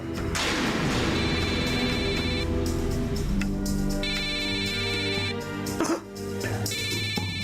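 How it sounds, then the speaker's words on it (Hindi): A mobile phone ringtone plays as a repeating high electronic melody in three separate bursts, layered over a steady musical backdrop. "काम का फोन है हुजूर।"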